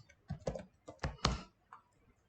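Keystrokes on a computer keyboard while a name is typed into a spreadsheet, a short burst of several close clicks in quick clusters, then a pause and one faint final tap.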